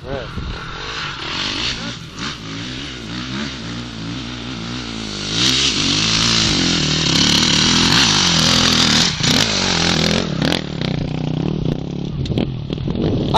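A motorbike engine revs loudly and steadily up close, rising in pitch and intensity midway, with voices talking over the roar.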